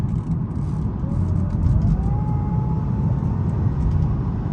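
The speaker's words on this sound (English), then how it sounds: "who doesn't love the sound of that supercharger?" A high-mileage German luxury car with a supercharged engine pulls steadily under load, a loud continuous low rumble with a rising supercharger whine layered on top, heard from inside the car with no talk.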